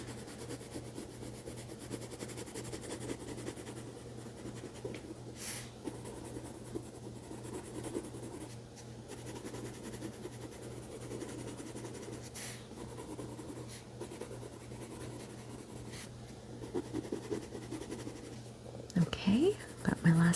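Pencil drawing and coloring a sunflower on paper, a steady soft scratching and scribbling that runs the whole time, close up, with light talk over parts of it.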